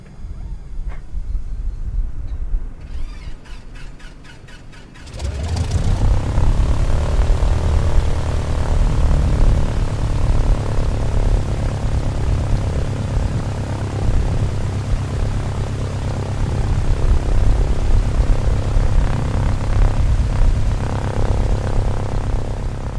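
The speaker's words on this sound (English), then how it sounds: "we'll head outside for the engine start" Bucker Bu-131 Jungmann biplane in a flight simulator game: a few seconds of quiet clicking, then the engine catches about five seconds in and settles into a loud, steady propeller drone that continues to the end.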